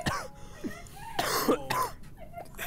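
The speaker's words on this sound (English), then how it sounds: "I just said bless you to my own cough again" A person coughing and clearing their throat in a few rough bursts, close to the microphone, with raspy breathy bits between the coughs.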